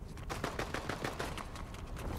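Rapid automatic gunfire from a Fortnite match rattles out in a dense, steady string of sharp shots, loud and close, with no pause for about two seconds.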